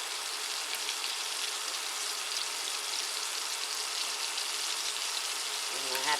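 Chicken tenders fry in oil on a NuWave PIC induction cooktop, giving a constant even hiss of bubbling grease close by with no pauses.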